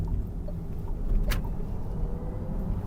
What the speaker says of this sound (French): on entend un petit peu le petit bruit du moteur et tout